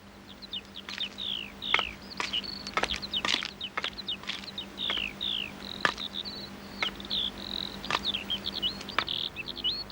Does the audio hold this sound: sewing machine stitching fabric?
no